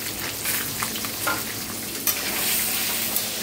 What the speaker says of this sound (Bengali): ডিম ভাজা হয়ে যাচ্ছে।